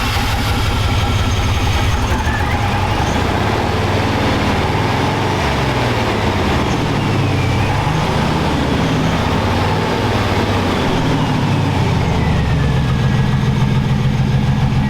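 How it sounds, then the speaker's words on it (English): An old Chevy truck from a scrap yard runs with a loud, steady engine rumble and rough idle, heard close and continuous throughout. "we're gonna see if we can get this truck to start."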